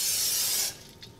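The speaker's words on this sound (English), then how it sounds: "Just spray it mildly." A short, bright burst of cooking oil spray onto a pan lasting under a second, then it stops, leaving quiet room tone with a faint click.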